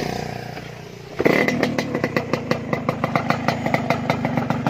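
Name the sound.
motorcycle engine running, ridden to the fish pond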